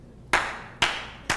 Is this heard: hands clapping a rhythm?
yes